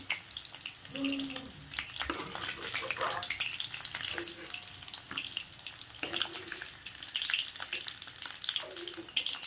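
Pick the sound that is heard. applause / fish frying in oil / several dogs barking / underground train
fish frying in oil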